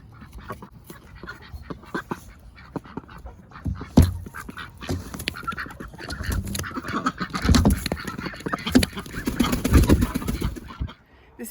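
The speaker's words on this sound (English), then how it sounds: "I need some more food for the ducks." A flock of ducks quacks in scattered bursts, close and fairly loud, with some rustling and soft background noise in between.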